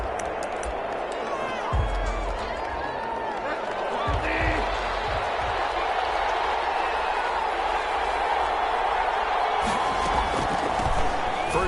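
Steady stadium crowd roar from an NFL football video game, Carolina Panthers against the New Orleans Saints, a continuous broad wash of fans with a few low thumps, under a commentator's voice.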